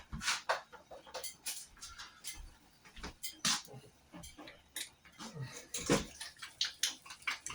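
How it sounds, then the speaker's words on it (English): Hands washed under a running tap in a home kitchen, a close, uneven splashing with rubbing bursts and brief drips, no talking. "wash my hands"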